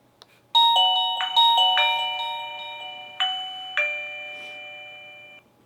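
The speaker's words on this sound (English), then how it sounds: "I'm going to press the doorbell button here" A Philips palm recognition smart lock's two-tone electronic doorbell chime rings clearly several times in quick succession, each note ringing out and fading, loud and close with no talking.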